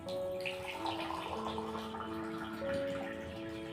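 Water pours into a glass, a faint gurgling trickle with rising ringing tones as it fills, set against quiet room noise.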